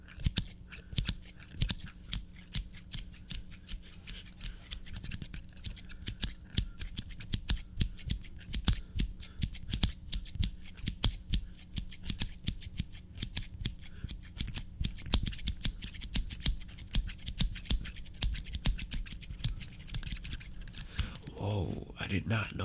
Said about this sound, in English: Scissors or a musical instrument.